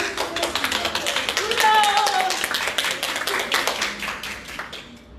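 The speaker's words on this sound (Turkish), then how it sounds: "Evet, alkışlayabiliriz bunu." An audience applauds at a training session in Antalya, a steady patter of clapping hands lasting a few seconds with some voices mixed in.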